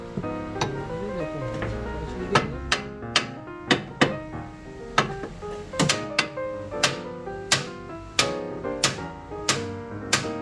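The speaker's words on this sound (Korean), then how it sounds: "망치로 존나 한번 세게 막 박살 내듯이 한번 빼볼게요" A hammer strikes repeatedly at a stuck suspension part on a BMW E30 during a spring replacement: about a dozen sharp, ringing metallic blows at an uneven rhythm over a steady tonal background.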